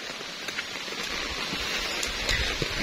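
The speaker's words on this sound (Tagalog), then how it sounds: "Lakas ng ulan." Heavy, windy rain in Bicol falls steadily on nearby surfaces, a loud continuous hiss with scattered sharper drops and patters across the whole stretch.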